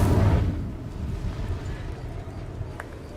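A fire spell cast in the Hogwarts Legacy video game, a loud whooshing burst at the start that fades into a low rumbling roar and then a crackling tail, with no talk.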